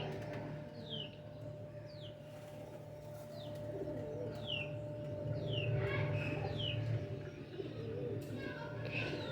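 Low pigeon coos murmur amid repeated short bird chirps, over a steady background hum and faint distant voices.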